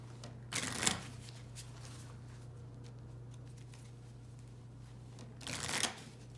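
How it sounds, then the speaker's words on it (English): A deck of Warhammer 40K collectible cards is shuffled in two short riffling bursts, one near the start and one near the end, close and soft over a steady low electrical hum. "Eldar run out of cards, so they're going to have to reshuffle their deck."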